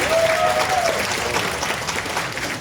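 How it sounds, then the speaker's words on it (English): Loud applause from a room full of people, many hands clapping at once in a continuous roar that eases off slightly toward the end. "Give yourself a big round of applause."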